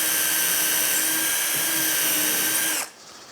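A power drill whines at high speed in a steady, loud drone while drilling 20mm holes in a bench top, then cuts off abruptly near the end.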